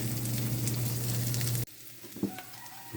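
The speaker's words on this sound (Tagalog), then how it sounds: "Magsinan po tayo ng luya. Sunod natin sibuyas, bawang." Ginger, onion and garlic sautéing in oil, a loud close sizzle with a low steady hum that cuts off abruptly partway, then a few faint clinks and stirring sounds.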